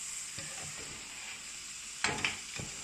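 A cheese toasty flipped in a hot pan, a faint steady sizzle throughout with a couple of soft scraping knocks near the end, close and quiet.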